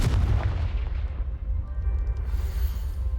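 A Confringo spell from Hogwarts Legacy erupts in a heavy, rumbling blast that rolls on as a dense, booming roar, loud and close, with no talk over it.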